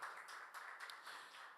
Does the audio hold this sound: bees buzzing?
no